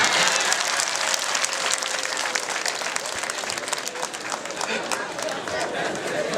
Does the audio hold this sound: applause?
yes